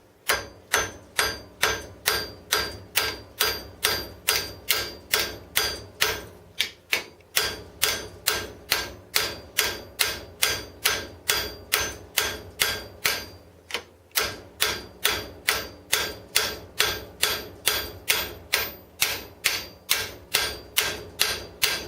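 A hammer strikes rivets on a rail in steady sharp metallic blows, close and loud, repeating about twice a second with a short pause partway through, and no talking.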